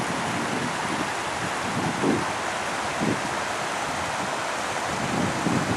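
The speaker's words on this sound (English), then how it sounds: "The highest waterfall in Switzerland." A steady, loud roar of rushing water, broadband and continuous like a large waterfall in Lauterbrunnen, Switzerland, with no voices.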